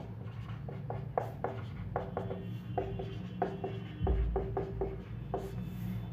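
Marker or chalk writing on a board during a maths class, a run of short scratchy strokes in irregular bursts, close and fairly quiet over a low room hum.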